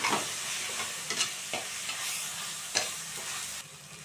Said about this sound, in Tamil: அதையும் சேர்த்து நல்லா கிண்டி விட்டுறேன்